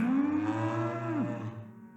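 A cow lets out one long, deep moo up close, holding the low bellow steady before it bends downward and fades toward the end.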